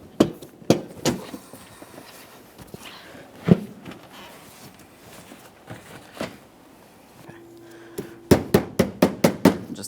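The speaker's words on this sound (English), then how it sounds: "Just tap this in, make sure it's properly secured." A fog light bezel on a 2017-2024 GMC Acadia is tapped into place: scattered sharp knocks, then a quick run of about seven evenly spaced taps near the end, close and crisp.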